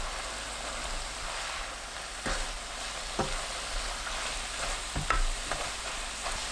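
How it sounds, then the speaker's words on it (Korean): Kimchi stir-frying over high heat in a hot pan, a loud continuous dense sizzle with a few scraping stir strokes, close and without speech. "김치를 센 불로 볶아주세요. 지글지글 소리 나면서 팬이 달궈지면 중불로 낮추고"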